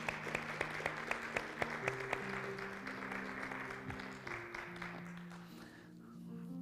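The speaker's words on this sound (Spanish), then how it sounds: "Dale fuerte el aplauso al Rey" A church congregation applauds steadily during a worship service, the clapping dense and sustained over sustained music tones, with a few sharper claps standing out early before it thins slightly toward the end.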